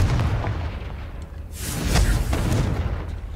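A Confringo explosive spell blast in the Hogwarts Legacy video game, a loud booming burst with a sharp crack about halfway through over a rumbling low background.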